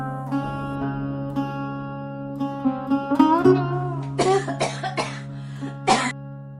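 An old man coughs and clears his throat repeatedly in rough, hacking bursts, growing louder toward the end over a steady sustained musical tone.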